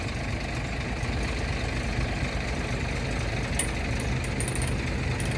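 Steady low idle of a CAT C7.1 six-cylinder diesel engine on a CAT 140GC motor grader, rumbling evenly and close, with faint light ticking sounds near the end.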